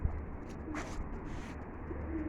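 Pigeons kept by a pigeon fancier cooing nearby, giving soft, low coos in short bursts over a steady background hum, with no talking.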